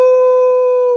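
A man imitates a wolf howl with his voice, a sustained, steady, loud tonal "woo" held for about a second with no other sound.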